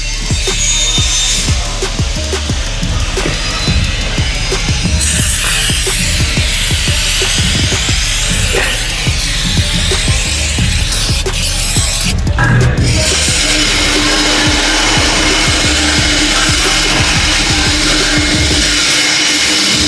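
A tyre-shine applicator is rubbed over a Hilux tyre fitted with new BCI wheels. Close, steady scrubbing and swishing runs throughout, with changes in pace and pressure.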